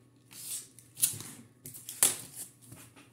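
Scissors snip adhesive tape on a binder in a quiet indoor crafting setup, a few short crisp cuts and rustles spaced about a second apart, faint and close.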